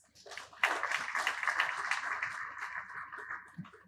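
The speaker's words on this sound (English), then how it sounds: "Round of applause." Audience at an appreciation award ceremony starts clapping after a short pause and keeps up a steady, fairly soft round of applause that continues to the end.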